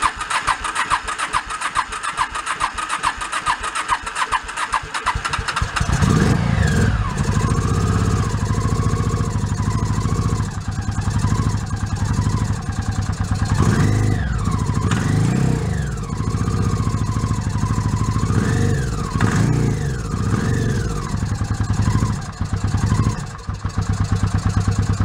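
A motorcycle engine turns over and catches after a cold start, then settles into a steady, loud idle with repeated throttle blips raising and dropping its pitch, close by and with no one talking.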